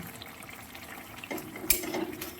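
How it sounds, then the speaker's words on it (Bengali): Water is poured into a pan of sautéed potatoes, a brief splashing gush that rises suddenly over a low background hiss and lasts about a second, close and moderately loud. "আমি একটু জল দিয়ে দিলাম"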